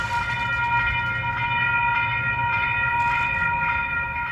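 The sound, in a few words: train approaching a quiet zone railroad crossing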